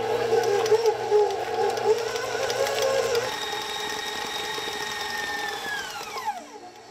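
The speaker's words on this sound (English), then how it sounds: "start that mixer" Electric mixer whirring through two packs of cream cheese for a fish dip: a steady, loud motor hum with grinding overtones that shifts pitch partway through, then winds down and stops near the end.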